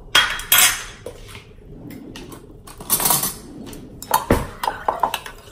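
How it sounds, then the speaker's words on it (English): Banh xeo batter being stirred in a bowl, with a utensil clinking and scraping against its sides in uneven bursts, moderately close and without talk. "I'm going to stir everything around"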